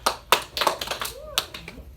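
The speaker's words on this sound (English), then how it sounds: "Clap." Children clapping hands in a kindergarten patterns lesson, several sharp separate claps in an uneven rhythm, with talking mixed in between them.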